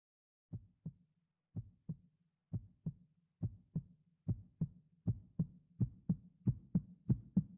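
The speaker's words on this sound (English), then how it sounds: "It's heartbeats." Heartbeats from the video game Zero Escape: Nine Hours, Nine Persons, Nine Doors pulse in paired low thumps that steadily quicken and grow louder over silence.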